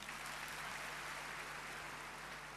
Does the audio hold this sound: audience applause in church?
yes